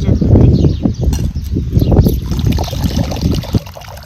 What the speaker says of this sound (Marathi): आता परत आपल्याला दुसऱ्या पाण्याने धुवायची, त्यासाठी आधी पाणी घेते वतून आणि ही भाजी ह्याच्यात घालते।